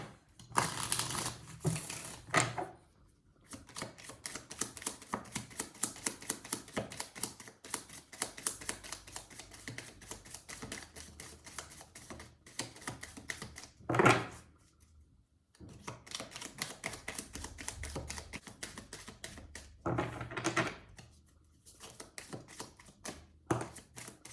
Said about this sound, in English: Shuffling Threads of Fate for Libra, May 16th through the 31st,